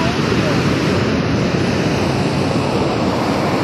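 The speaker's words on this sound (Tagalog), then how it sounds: "Ang lakas ng alon!" Strong ocean surf at Puerto Galera beach, a continuous loud, dense roar of breaking waves mixed with heavy wind buffeting on the microphone, with no pause throughout.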